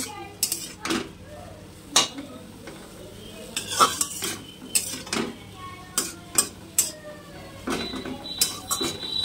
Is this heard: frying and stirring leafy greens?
yes